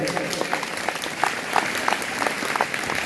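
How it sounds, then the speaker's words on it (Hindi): An audience at a school programme breaks into sustained, dense applause for a block-level honoree, a thick wash of many hands clapping evenly throughout. "जोरदार तालियां आप सभी बजाएंगे"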